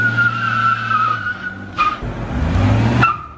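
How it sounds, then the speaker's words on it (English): An old beat-up car attempts a burnout, tires squealing in two sharp bursts with the engine revving hard beneath, loud and close. "Jonathan's gonna try to do a little burnout with these hoopty mobile"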